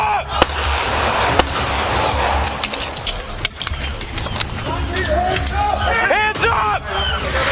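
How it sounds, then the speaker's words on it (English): Deputies fire their service weapons toward a driver during a police confrontation: several sharp, loud gunshots crack at irregular intervals amid shouting voices and background commotion. "deputies discharged their service weapons toward the driver. Shots fired."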